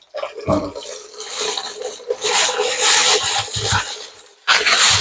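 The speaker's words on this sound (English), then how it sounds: "I'm going to rinse these sweet potatoes." Tap water runs over sweet potatoes as they are rinsed and rubbed by hand in a sink. The splashing is loud and close, with scrubbing sounds and a brief pause before the flow surges again.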